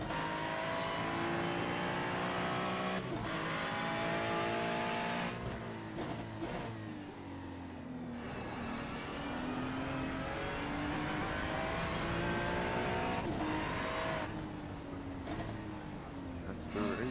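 GT3 race car engine at Mount Panorama in the iRacing sim, droning steadily and loudly with rising and falling pitch through gear changes, while someone talks over it.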